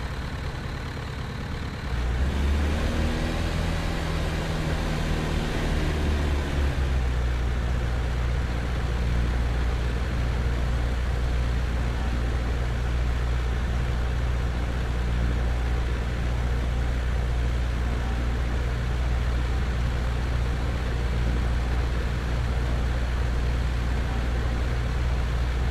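An aircraft engine in Microsoft Flight Simulator X drones steadily and loudly, its pitch sweeping up briefly early on before settling into a continuous low hum with no voices.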